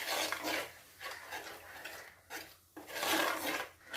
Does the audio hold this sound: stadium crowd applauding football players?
no